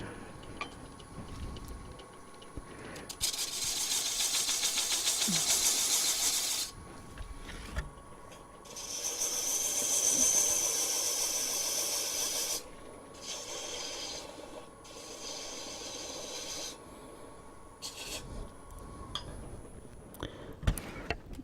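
A gouge cuts an end-grain bowl on a wood lathe, giving bursts of loud, broad rasping and scraping that come and go over a steady motor hum, with brief quiet gaps between passes.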